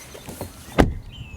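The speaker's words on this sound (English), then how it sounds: "the V90 door closing sound" A Volvo V90 car door swings shut with a single solid, close-up thud, followed by a quiet interior hum.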